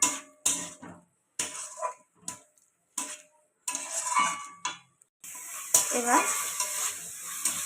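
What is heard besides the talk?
ginger garlic paste frying with onions in a pan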